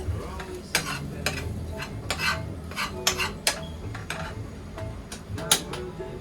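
A metal spoon scrapes and stirs repeatedly against a worn, old cooking pan in a tiny apartment kitchen, giving close, rasping strokes in an irregular rhythm over a faint low background.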